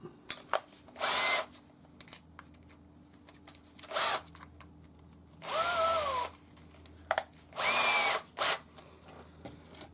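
A cordless drill spins a chucked old knitting needle in several short bursts of a few seconds each, the whirring motor rising and falling in pitch between quiet pauses.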